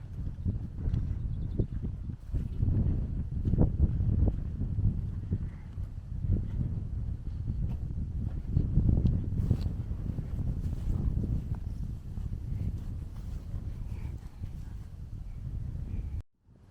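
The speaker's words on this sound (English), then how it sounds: "Pretty windy here, but we're down at the lake now." Wind buffets the microphone at a lakeside in a steady, heavy low rumble that rises and falls, then cuts off abruptly.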